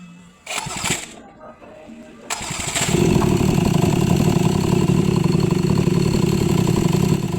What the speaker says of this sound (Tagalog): Ato nang paminahon ang unang andar niya